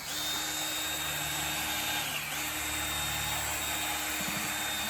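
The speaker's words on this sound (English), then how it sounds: "It's a paint mixer." A drill-driven paint mixer whirs steadily with a high tonal whine and a slight dip in pitch partway through, running continuously and close by.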